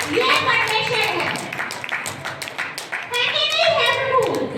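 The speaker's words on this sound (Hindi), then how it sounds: "तो जोरदार तालियों के साथ खुदा की तारीफ करें" A church congregation claps together in praise, a dense, steady patter of many hands that swells at the start and again near the end, with voices mixed in throughout.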